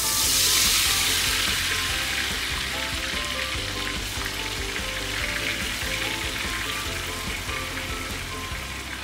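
Dried prawns fry steadily in a pan for sambal chili, a continuous bright sizzle and crackle that stays loud and close throughout, with no talking.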